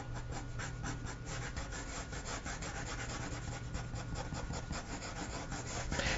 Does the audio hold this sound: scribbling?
yes